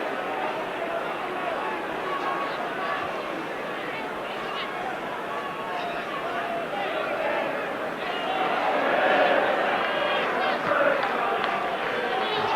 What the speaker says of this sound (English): Jeremy Goss gets a very good hand from the crowd.